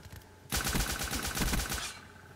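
Automatic gunfire in Call of Duty: Black Ops, one rapid burst of about a second and a half of evenly spaced shots, loud and close, starting abruptly after a quiet moment.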